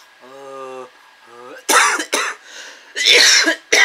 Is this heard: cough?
yes